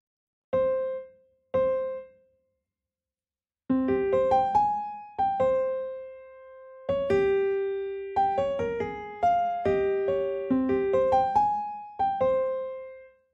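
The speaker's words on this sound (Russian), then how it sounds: "И вот такой паттерн на пианинке." A piano pattern on an American Jazz Concert grand piano preset for a dark plugg beat: a few sparse single notes, a pause, then a flowing melodic line of sustained chords and notes, heard alone without drums.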